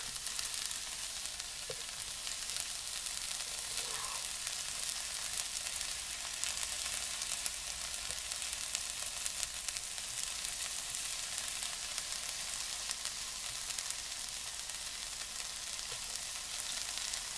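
Egg wraps frying in a pan, giving a steady, even sizzle that runs on alone for the whole stretch, with only faint scattered crackles on top.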